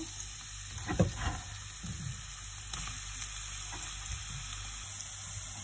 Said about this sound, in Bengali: এখন আমি পেঁয়াজ মরিচ দিয়ে দিব এটাতে ভাজার জন্য।